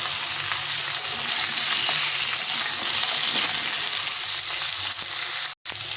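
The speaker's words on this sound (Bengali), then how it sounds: "একটু আলুটা ভাজা ভাজা করে দেব" Steady, dense sizzling of potatoes frying in hot oil in a pan, continuous and close, cutting out briefly near the end.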